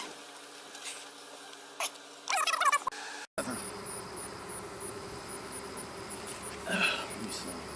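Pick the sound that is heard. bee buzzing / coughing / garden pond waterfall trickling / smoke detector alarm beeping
bee buzzing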